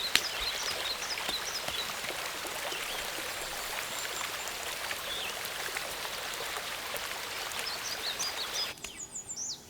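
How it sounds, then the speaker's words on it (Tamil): Steady rain pours down outdoors as a constant hiss of falling water, with birds chirping faintly now and then and the downpour easing slightly near the end; no one speaks. "மழை அதிகமா வரும்னு நினைக்கிறேன்."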